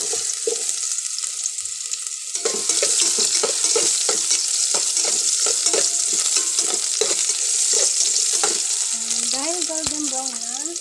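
Onions sautéing in a pan after garlic has browned, a continuous close sizzle with repeated stirring scrapes and clinks, the frying getting louder partway through.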